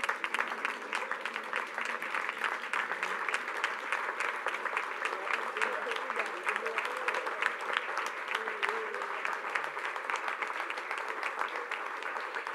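An audience at an arts and culture event claps in sustained applause with rapid individual claps audible, and faint voices or a tone linger underneath throughout.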